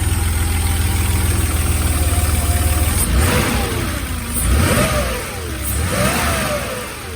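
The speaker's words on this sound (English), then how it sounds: "So now she sounds like a proper air-cooled engine." A 1989 Porsche 911 air-cooled flat-six, freshly valve-adjusted, idles with a steady close rumble before revving up and settling back in several rising and falling blips, loud and alone.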